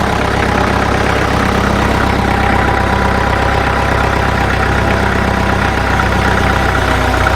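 A tractor engine idles close by, a loud, steady low rumble with a faint knocking pulse running unchanged throughout and no voices.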